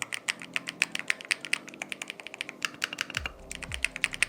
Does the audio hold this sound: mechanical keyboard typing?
yes